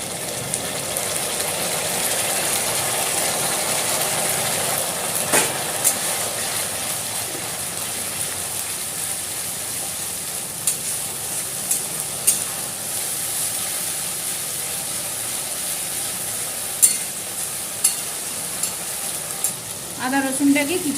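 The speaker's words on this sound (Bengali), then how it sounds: "আদা রসুনটাকে কিছুক্ষণ ভালো করে ভেজে নিলাম" Ginger garlic paste sizzles with browned onions in a pan, a steady close frying hiss throughout with occasional scrapes and clinks of stirring, no voices over it.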